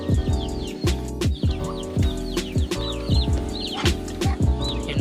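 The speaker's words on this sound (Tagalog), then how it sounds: "almost 30 ducks here" Nearly thirty ducks on a farm keep up busy overlapping quacks and clucking calls, loud and close, with other birds chirping faintly behind.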